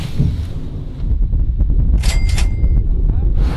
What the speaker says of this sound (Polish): Tak wieje, że nie byliśmy w stanie zamknąć drzwi.